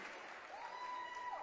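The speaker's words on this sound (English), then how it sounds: "let's give both fighters a big round of applause" A crowd at a mixed martial arts fight night applauds the two fighters after their bout, a faint, distant wash of clapping with a thin whistle-like tone running through it.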